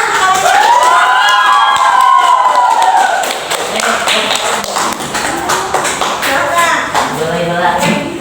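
Children in a classroom clap and cheer, with loud, dense clapping and excited shouting and squeals, which fade into lighter claps and chatter.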